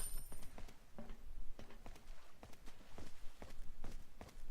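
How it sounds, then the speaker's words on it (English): Footsteps in Resident Evil 4 land in a steady walking rhythm, a series of distinct thuds and scuffs with a quiet ambient background, fairly close and clear, with no talking over them. "I hear footsteps."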